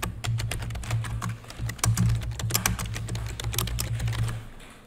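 Steady, fast typing on a computer keyboard while entering a SQL select statement, with dense clicking key strikes close up and no talking, continuing throughout.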